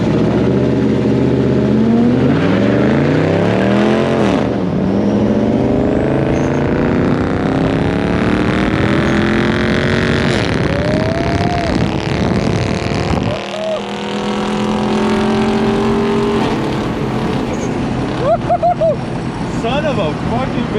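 Turbocharged Lexus SC400 launching hard at a drag strip, the engine roaring and sweeping up through rising revs over about twenty seconds, loud and close, with people talking and shouting excitedly over it.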